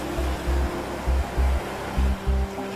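Rough ocean waves surge in a stormy South Pacific sea, a loud constant roar of rushing water with repeated heavy low thumps swelling and fading.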